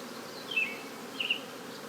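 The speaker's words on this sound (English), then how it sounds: "Now the bees are coming down." Buzzing bees drone softly around the hive, with two brief louder passes as insects fly close by.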